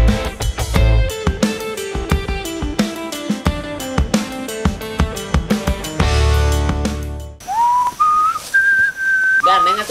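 A man whistles a shifting, melodic tune outdoors, clear and close, with sliding pitch changes and music-like sustained notes toward the end.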